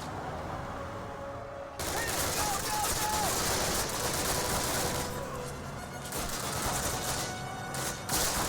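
Thompson submachine gun in the Call of Duty video game, chambered in .45 ACP, fires long, dense bursts at close range, with a brief lull midway before rapid fire resumes over battlefield noise.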